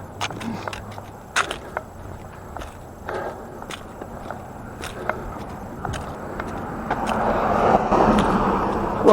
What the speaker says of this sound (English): Lovely traffic.